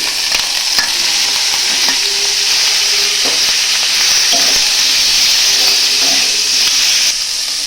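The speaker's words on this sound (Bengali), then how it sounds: "আমি বাটারের মধ্যে ক্যাপসিকাম আর টমেটোগুলো ভালো করে ভেজে নেব।" Capsicum and tomatoes fry in butter in a pan, a loud, close, continuous sizzle with intermittent stirring clinks and scrapes throughout.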